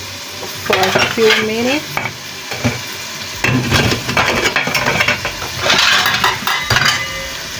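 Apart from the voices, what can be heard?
stirring plantains, meat and potatoes in pot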